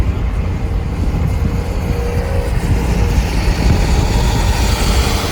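A Mustang Cobra's engine and exhaust make a loud, continuous low rumble that runs steadily without pause, with a slight swell partway through.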